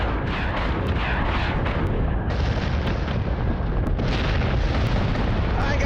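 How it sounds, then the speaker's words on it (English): Heavy guns on berserker warships pound away in a space video game, a continuous dense barrage of booming blasts and crackling impacts that stays loud and unbroken throughout. "he's being turned into Swiss cheese by the guns of the berserkers"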